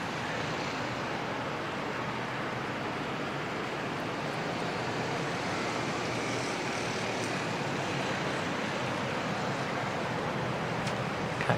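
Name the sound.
Jetstar airliner arriving at Sydney Airport from Melbourne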